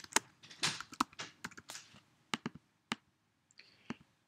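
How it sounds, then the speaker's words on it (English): Close, crisp typing on a computer keyboard: quick clusters of key clicks, then a few isolated taps with short pauses between them, with no voices. "So I just typed in her name."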